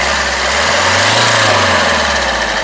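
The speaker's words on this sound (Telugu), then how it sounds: "ఇంజన్ యొక్క నాయిస్ చాలా సైలెంట్గా అయితే ఉంది యాక్సిలేటరీ ఒకసారి" A 2016 Maruti Suzuki Ertiga VDI diesel engine hums loud and close, its pitch rising under a quick rev and then easing back toward idle.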